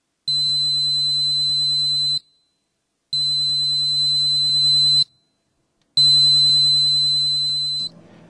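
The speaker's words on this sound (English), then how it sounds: "press firmly down on the yellow button until you hear a very high-pitched alarm" Three long, steady, piercing alarm tones from a personal duress alarm tag, each lasting about two seconds, separated by brief silences, loud and close.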